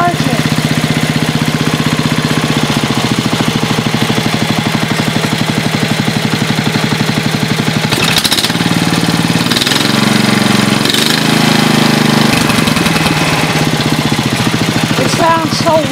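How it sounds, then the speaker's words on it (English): A Chevrolet Suburban engine idles through a deep muffler, holding a loud, steady, low throbbing hum close by with only slight changes in tone. "It sounds so weird with that muffler. It sounds deep."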